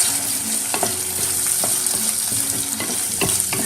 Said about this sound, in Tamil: வெங்காயம், பச்சை மிளகா, வெள்ளைப்பூடு, கருவேப்பிலை எல்லாம் போட்டு நல்லா வதக்கிட்டு